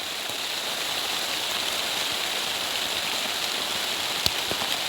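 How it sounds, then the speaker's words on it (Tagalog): Heavy rain pours down in a dense, steady hiss that stays unbroken and even throughout, with a single brief knock near the end and no voices. "Ang lakas ng ulan dito."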